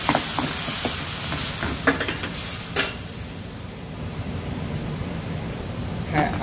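Hot water poured onto chicken frying in a pan gives a steady, broad sizzling hiss that continues loud and even throughout, with a few brief clinks from the pan.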